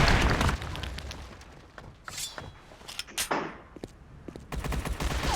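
Rapid bursts of gunfire in a shooter video game, clustered sharp shots and volleys with brief gaps, loud and close, with a heavier burst of fire at the start and end.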